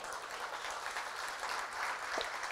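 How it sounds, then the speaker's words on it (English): An audience at a photography event applauds in a steady, moderately loud wash of clapping, with no talk over it. "let's get a round of applause for Strobist out there."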